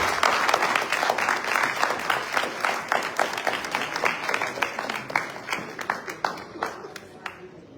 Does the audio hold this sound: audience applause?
yes